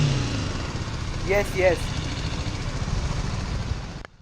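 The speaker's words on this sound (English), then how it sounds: "Firing up the bike for the first time." BMW G310R single-cylinder motorcycle running close by, a steady low mid-pitched idle rumble throughout that cuts off abruptly at the end, with a brief spoken word partway through.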